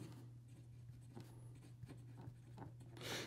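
Close, quiet scratching of a medium stainless steel nib on a Simplpens Ventura fountain pen writing on paper, soft intermittent strokes over a low steady hum.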